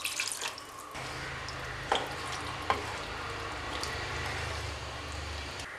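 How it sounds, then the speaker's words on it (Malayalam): Fried chicken stirred into masala for a biryani in a pan, a steady soft sizzle and frying hiss with a few sharp clinks of a utensil against the pan. "ഇതിലേക്ക് ചിക്കൻ ചേർത്ത് കൊടുക്കുകയാണ് മസാലയായിട്ട് മിക്സ് ആക്കുക"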